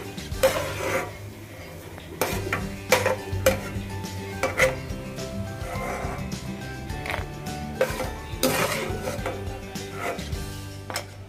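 Fried cashews scooped from a pan while making Sheer Kurma, a sweet dish: a run of loud metallic clinks and scrapes of a spoon against cookware, with sizzling underneath and no talk.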